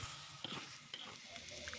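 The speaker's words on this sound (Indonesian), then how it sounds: "Kemudian masukkan tomat yang telah di blender ke dalam tumisan bumbu. Aduk-aduk kembali hingga rata" Blended tomato is stirred into sautéed spice paste in a pan while cooking goat nasi kebuli, producing a faint, steady sizzle with soft scraping stirs.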